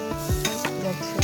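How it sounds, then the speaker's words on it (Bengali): Dried fish (shutki) sizzles steadily in a hot pan, broken by a few scraping stirs of a spatula, close up and with no voices. "এর লেগে আরেকটা শুটকি ভাজতেছি"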